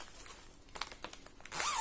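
A zipper on a needlework project bag is tugged in a few short, scratchy bursts, then a longer continuous zip closes loud and close at the end.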